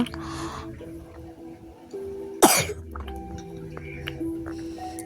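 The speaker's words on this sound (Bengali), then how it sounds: "আমার ছেলে কাশি দিচ্ছিল।" A boy at home gives a single sharp, throaty cough, heard fairly close within a quiet indoor room, with faint household clinks around it.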